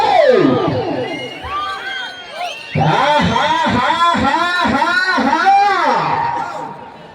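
A loud crowd cheering and shouting at a bull race, with many overlapping voices whooping and yelling together, close and continuous.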